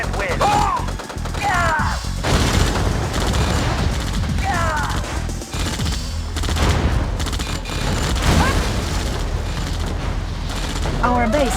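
Gunfire and explosions from a Red Alert 2 battle. Bursts of shots and heavy blasts rattle almost continuously, while short radio-style unit voice lines cut in over the din.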